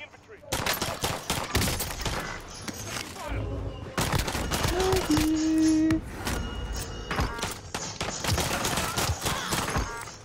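Rapid bursts of automatic gunfire and single shots crackle through a Call of Duty Warzone match on the Caldera map, dense and loud across the whole stretch with brief pauses, mixed with game effects.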